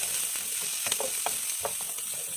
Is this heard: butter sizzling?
yes